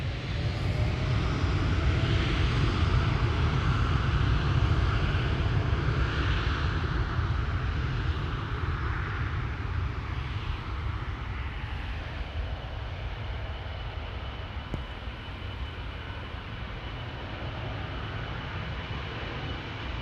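Engines of a KLM Boeing 777 airliner lining up at Amsterdam Schiphol rumble loudly and steadily in the distance, a deep continuous roar that slowly eases in level.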